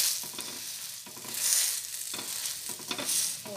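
A stuffed methi paratha fries in oil on a griddle with a steady soft sizzle, broken by periodic scraping and pressing strokes of a spatula, close and fairly quiet with no talking.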